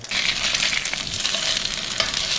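An egg dropped into a hot frying pan, a loud, close crackling sizzle that holds steady throughout with a few sharper pops, no one speaking.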